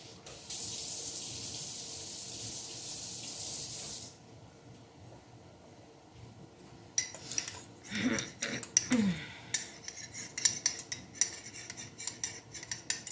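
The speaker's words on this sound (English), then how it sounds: "Let me wash off this fork." Running tap water splashes for a few seconds and stops while a fork is washed. Then metal clinks and scrapes against dishes close by, rattling in short bursts.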